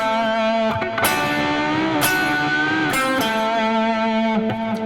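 Distorted electric guitar plays a sustained, singing phrase from a song's solo, with a few picked attacks, slurred bends and held notes in a steady, loud stream and no voices.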